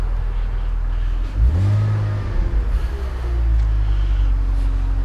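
A BMW convertible's engine revs up loud and close, rising and falling through a couple of throttle blips over a low idle rumble, with no talk.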